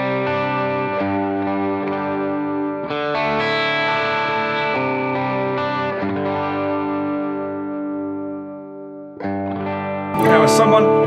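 Ibanez AF75 Artcore hollow body electric guitar with PAF-style humbucker pickups plays sustained, bright chords and single notes through an effects chain. The tone is articulate and ringing, with a short burst of picked notes at the end.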